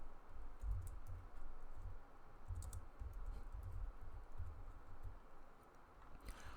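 Quiet typing on a computer keyboard while entering a chart title in Excel, with soft, irregular key clicks in short bursts, close and faint, no talking.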